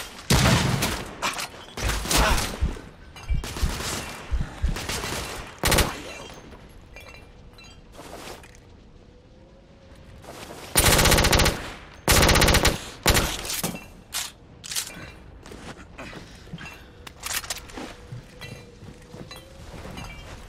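Sustained machine gun fire from The Order: 1886 aboard an airship, with dense bursts of rapid shots, crashes and breaking debris, pausing briefly then returning in loud volleys over a low engine drone.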